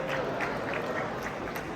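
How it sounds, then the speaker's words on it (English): An audience at a Halloween Horror Nights convention panel at Midsummer Scream 2024 cheers and claps, a steady, dense crowd roar with scattered applause throughout a brief moment. "you're cheering"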